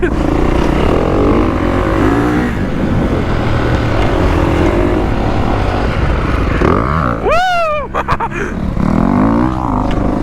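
Dirt bikes ride a supercross track backwards, engines roaring loudly and continuously up close, with revs rising and falling over jumps and a sharp high rev from a passing bike near the end.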